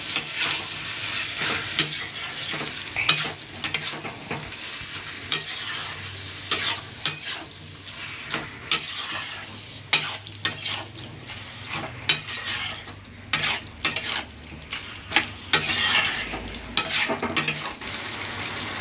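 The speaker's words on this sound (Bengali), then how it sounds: "চিংড়ি মাছটাও দিয়ে দেব, দিয়ে ভালোভাবে কষিয়ে নিতে হবে।" Prawns and plantain flower stir-frying and cooking down in a pan, a steady close sizzle broken by repeated scrapes and clinks of a utensil stirring against the pan, with no talking.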